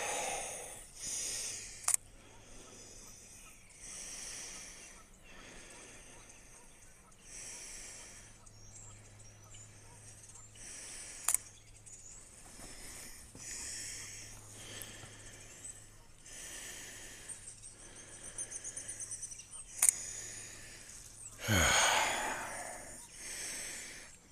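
A person panting heavily, rough wheezing breaths coming and going in uneven bursts at close range, with a few sharp clicks and a louder gust late on.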